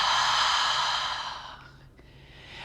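A long, steady breath out during a gentle stretching class, close and audible, tapering off over about two seconds before a faint new breath begins. No one speaks over it.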